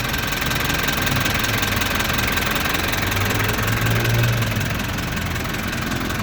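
1980 Toyota Land Cruiser BJ44V diesel engine running at idle outdoors, a loud, steady, low clattering rumble with even knocking that holds constant throughout.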